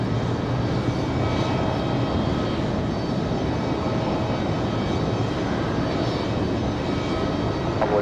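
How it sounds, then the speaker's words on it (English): A Copa Airlines jet arriving from Panama at Raleigh-Durham International produces a steady, loud, broad engine roar that holds evenly throughout. "our second international arrival of the day, Copa Airlines from Panama"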